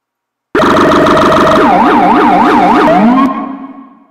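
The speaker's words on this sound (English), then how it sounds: "it will switch to automatically cycling between the siren sounds" A loud electronic emergency siren wails steadily, then shifts into a fast rising-and-falling yelp before cutting off abruptly.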